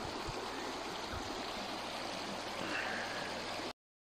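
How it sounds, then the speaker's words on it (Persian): Cold mountain spring water near Kuh-e Gol lake above Sisakht in Iran flows into a stream with a steady, close rushing wash. It continues evenly, then cuts off abruptly near the end. "ببین اینجا میاد تبدیل میشه به رودخونه."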